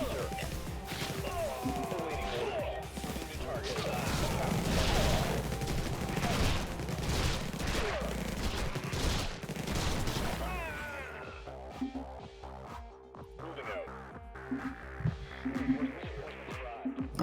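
Rockets launching and exploding in the sci-fi strategy game Infested Planet make a dense barrage of blasts and crashes that swells and then thins into scattered, fainter impacts with quieter gaps.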